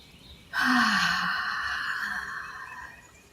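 One person takes a slow, deep breath during a guided heart-focused exercise, a single breathy exhale that starts abruptly and fades gradually, close and clear against quiet surroundings.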